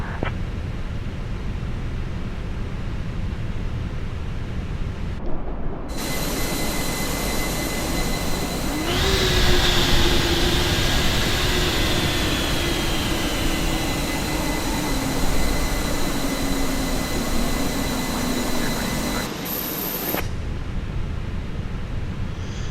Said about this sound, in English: Engine starting sequence, starting engine number 2.